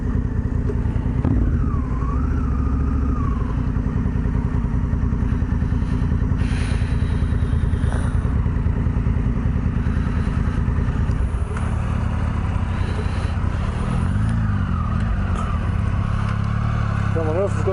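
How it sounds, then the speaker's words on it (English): Several motorcycles, including KTMs, idle and rev steadily at Dargo, a loud continuous rumble close by with a few throttle blips, while people talk over the engines. "Just a few bikes here at Dargo."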